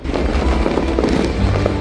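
Fireworks burst steadily over a river at a New Year celebration beneath paper lanterns, a dense, loud crackling barrage with continuous booms and pops filling the whole stretch.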